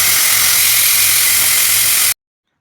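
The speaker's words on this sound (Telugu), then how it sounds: "కుక్కర్ ప్రెషర్ పోయిన తర్వాత మూత తీసుకుని" Loud, steady steam hiss from a pressure cooker venting while cooking lentils with turmeric, constant and close, then cutting off abruptly into silence.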